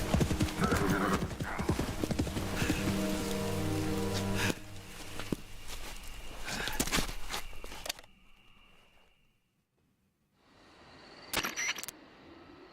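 Horse hooves clip-clop in a steady walking rhythm in a PS5 jungle action video game, close and loud, with a whinny. The hoofbeats fade into near silence, then a brief burst of clatter follows.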